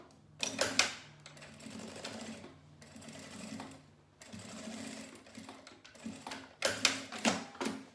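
A sewing machine stitches fabric for a manicure pouch in repeated runs of rapid mechanical clatter, some louder bursts standing out, close and clear with no talking.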